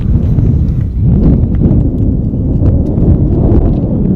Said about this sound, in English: That wind is really picking up.